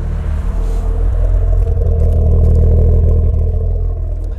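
A 600hp single turbo Supra engine with a screamer pipe rumbles loudly and close by, a deep steady idle with slight rises in revs and some clatter, no talking.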